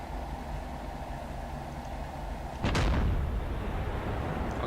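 A T-62 tank cannon fires once in a video game, a single heavy boom that cuts in sharply and leaves a loud rumbling tail over a steady background hum.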